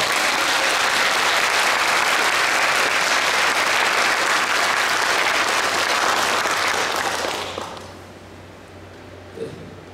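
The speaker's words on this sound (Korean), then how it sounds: "박수 한번 해주시죠." A church congregation at an anniversary classical concert applauds loudly and steadily for about seven seconds, the clapping then fading away to quiet.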